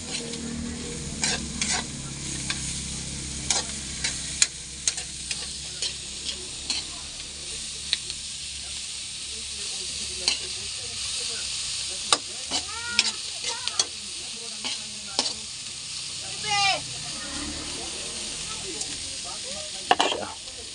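Onion, garlic and chili sautéing in a pan for an anchovy dish: a constant close sizzle with repeated sharp clinks and scrapes of a utensil stirring, and a faint voice now and then.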